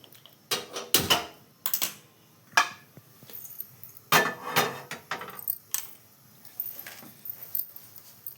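A metal pan is set down on a kitchen stove while ridge gourd chutney is being made, a series of close, sharp clanks and clattering knocks separated by brief quiet gaps.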